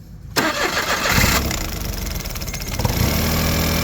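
A Smart Fortwo engine cranks and catches after a spark plug change, a sharp start followed by a steady, fairly loud idle that settles and runs smoothly to the end.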